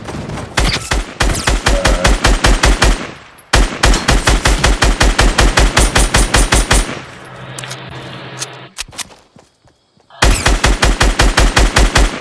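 Rapid automatic gunfire in Fortnite, loud and close, firing in long sustained bursts with brief pauses and a rougher, noisier stretch near the end before the shooting resumes.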